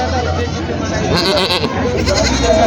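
Osmanabadi goats bleat in a busy, noisy goat and sheep market at Khandoba, Parbhani, with people talking throughout and a few louder, higher bleats rising midway.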